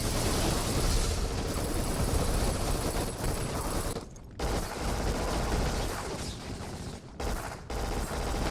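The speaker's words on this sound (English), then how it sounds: "Each gun had a distinct crack, bang, or thud depending on its caliber" Dense, continuous gunfire from the PS2 first-person shooter Black, with overlapping rapid bursts and heavy bangs filling the scene at close range, broken by a couple of brief pauses.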